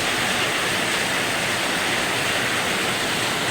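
Heavy pouring rain in Dasmariñas, Cavite on a Friday afternoon, a dense, steady, loud roar of broadband hiss that fills the whole clip without pause.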